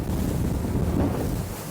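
The Arksen Discovery 8 motor boat cruises at 30 knots in rough water, giving a steady roar of rushing water and hull noise. Heavy wind buffets the microphone throughout.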